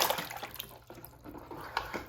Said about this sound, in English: you just want to give it a little dip. Again, in the water from the tank that you're disposing of.